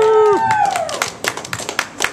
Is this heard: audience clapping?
yes